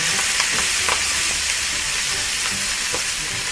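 Pieces of fish stir-frying in hot oil with curry paste in a Thai dish, a loud steady sizzle with soft scraping stirs mixed in, close and continuous with no talk.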